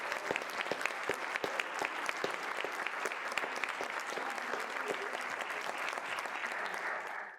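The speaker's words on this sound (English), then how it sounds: "give Mission Mexico a round of applause" A crowd claps steadily and enthusiastically, a dense sustained applause that holds for several seconds before tapering off at the end.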